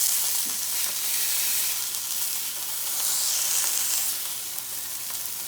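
Food browning in a Dalstrong Avalon Series 12-inch straight frypan on the stovetop, giving a steady, close, dense sizzle that swells and eases slightly, with no voices over it.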